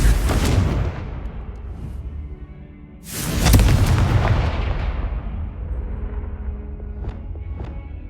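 Confringo fire spell explosions in Hogwarts Legacy: two heavy booming blasts a few seconds apart, each with a deep rumbling tail, followed by fainter crackling debris.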